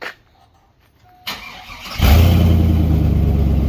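A car engine fitted with a $200 knockoff Flowmaster exhaust kit cranks and catches, then settles into a loud, deep, steady rumble close by, with no talking.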